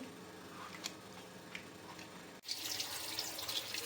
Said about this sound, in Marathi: 2-3 वेळा असे हे स्लाइस हलक्या हाताने धुवून घ्यायचे.